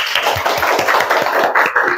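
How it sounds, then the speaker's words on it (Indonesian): A classroom of tenth-grade students claps hands together in steady, dense rhythm for about two seconds, loud and close, with no talk over it. "Beri tepuk tangan untuk kelas 10"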